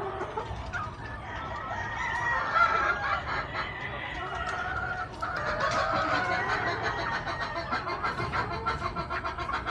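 Gilliam Roundhead gamefowl pullets cluck continuously in a breeding pen, with overlapping clucks and an occasional crow from a rooster nearby, at moderate loudness with no talking.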